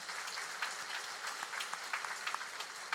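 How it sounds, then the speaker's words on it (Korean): A church congregation gives a steady, dense round of welcoming applause during a Sunday service. The clapping stays even and fills the room for the whole stretch, with no talk over it. "뒤돌아 인사할 때 우리 크게 환영의 박수 하겠습니다."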